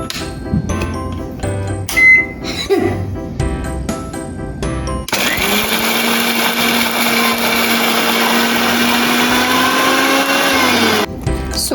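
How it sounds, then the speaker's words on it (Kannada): Mixer grinder whirring loudly and steadily for several seconds as fenugreek seeds are ground into a paste, after some clattering of handling sounds, then the motor cuts off abruptly. "ಫಸ್ಟು ಈ ಮೆಂತೆ ಕಾಳನ್ನೆಲ್ಲ ಒಂದು ಮಿಕ್ಸಿಗೆ ಹಾಕ್ಕೊಂಡು ಫುಲ್ ಪೇಸ್ಟ್ ಮಾಡ್ಕೊಳ್ಳಿ ಚೆನ್ನಾಗಿ."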